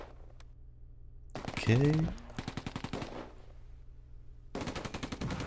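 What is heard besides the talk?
gunfire in the video game Close Combat II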